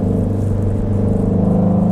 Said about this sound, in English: This thing does sound good, doesn't it? Yeah, and that's with the exhaust in sport mode